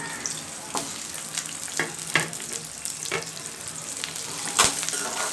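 Small onions fry in hot oil with a steady close sizzle, broken by several brief sharp clatters of stirring, without talk.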